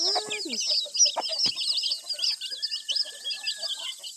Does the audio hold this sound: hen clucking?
yes